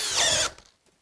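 A Makita cordless hammer drill in drill mode whines at full speed for half a second, then cuts off and spins down into quiet.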